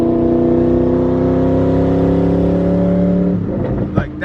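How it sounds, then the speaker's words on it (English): A turbocharged Ford Mustang pulls away gently, its engine hum rising as the turbo begins to build boost. The tone holds steady and loud, then cuts off into a rustle and a brief knock near the end. "you can hear the boost starting to build from the turbo"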